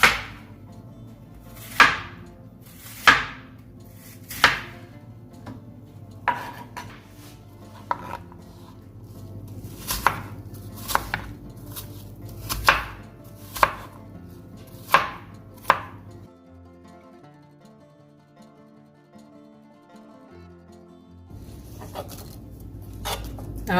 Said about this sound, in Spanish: Ahora vamos a cortar en los cuadraditos